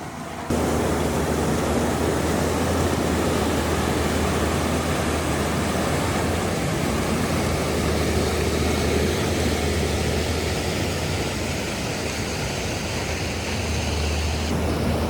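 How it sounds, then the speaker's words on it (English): Heavy water rushes steadily out into a newly dug pond, a dense, continuous roar that stays constant and loud throughout with no voices. "Crazy how much water's coming out of here and into the new pond"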